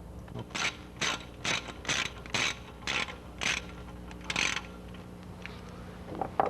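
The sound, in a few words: removing bolts and pulley from car engine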